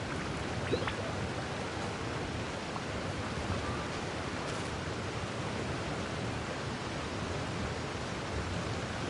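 Waterfall rushing in the video game Genshin Impact, a steady, even roar of falling water that holds constant throughout with no other sounds.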